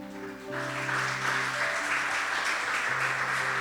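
A church congregation breaks into loud clapping, joined in by the crowd as a sustained organ or keyboard chord hums beneath.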